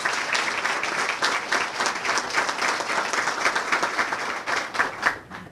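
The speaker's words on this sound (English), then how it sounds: "Give all of those awardees a nice round of applause" Audience at a city chamber event applauding awardees, a steady full round of clapping from a crowd, continuous and fairly loud throughout.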